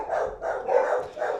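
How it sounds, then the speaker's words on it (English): Dogs bark in a short run of three or four muffled woofs from a room nearby, each bark rounded and mid-pitched, heard on their own without talk over them. "dogs are barking"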